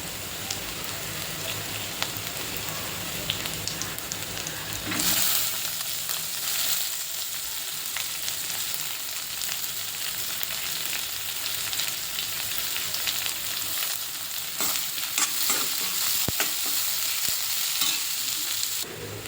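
Onions sizzle steadily in a pan while being stirred, the frying hiss continuous with occasional scraping bursts, no talking.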